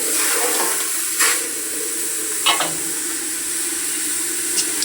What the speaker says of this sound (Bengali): এই যে কাঁচামরিচ, আদা, রসুন, পেঁয়াজ এগুলো একটু ভেজে নেব। তেল দিয়ে নেব আমি।